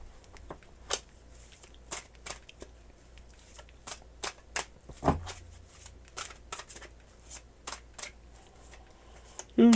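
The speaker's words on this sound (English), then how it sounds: "I always do a cleansing shuffle to make sure you get a clean reading." Tarot cards are shuffled in a quiet room, a series of short crisp riffles and flicks repeating at irregular intervals, close and fairly soft.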